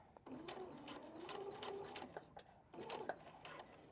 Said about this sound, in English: I'm going to pivot and connect to my first line of stitching